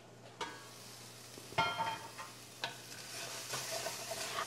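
Garlic sizzling in oil in a pot on a home kitchen stove, a soft steady frying hiss broken by a few louder clatters of a utensil stirring against the pot, close and alone without talk.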